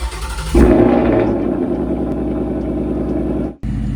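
A Ford Mustang fitted with an Air Raid cold air intake fires up from cold: a sharp loud catch of the starter, then a steady, rumbling idle that holds close and strong before a brief cut near the end.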